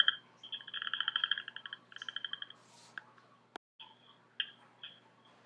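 A Southern Chorus Frog gives rapid, rasping trills, each a quick run of clicks like a fingertip drawn over a comb, repeated in several bursts with short gaps, fairly close and clear against quiet night background.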